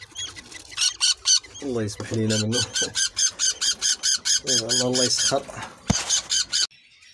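Red-eyed albino and creamino budgerigar chicks squawk close and loud in a fast, rhythmic series of harsh begging calls that repeat for several seconds while a person talks over them.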